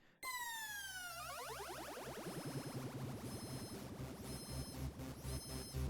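A rich Roland GAIA SH-01 synthesizer preset with several layered voices, starting with sweeping falling pitches that settle into a dense, pulsing chord held steadily to the end.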